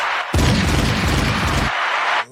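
A gunshot sound effect on a podcast: a sudden heavy boom bursts in, rumbles with a dense low-end blast and crackle for over a second, then a brighter tail fades out.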